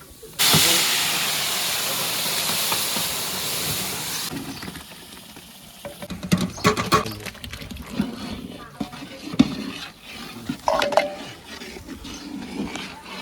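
Hot oil flares into a loud rushing hiss as it tempers a large batch of pav bhaji with asafoetida, sustained for several seconds before fading into scattered clanks and stirring with people talking nearby.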